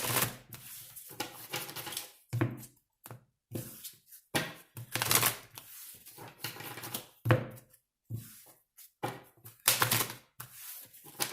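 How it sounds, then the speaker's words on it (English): Rapid bursts of riffling tarot cards being shuffled, repeating in quick rounds with brief pauses between, close and crisp, no voices. "3 more shuffles for Leo."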